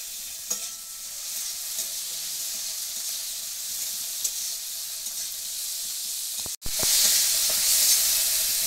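A large tomato fries in a pan with onion and seven garlic cloves, giving a steady sizzle with occasional stirring scrapes, then a brief cut and a louder burst of hissing.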